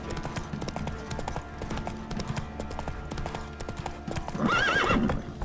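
Rapid hoof clip-clops of a horse on the move in The Witcher 3, with a distinct neigh rising near the end, set against busy game background sounds.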